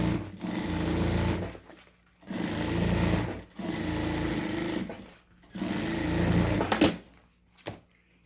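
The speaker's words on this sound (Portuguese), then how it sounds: "vou passar uma costura prendendo ele lá dentro" A sewing machine stitches a seam in a thermal bag with an inner insulating lining, running in loud, steady bursts of rapid whirring that stop briefly several times, close to the listener.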